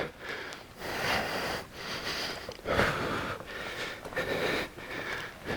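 Heavy rhythmic breathing during a high-intensity interval workout, repeated sharp inhales and exhales through nose and mouth in steady bursts, close and fairly loud with no talking.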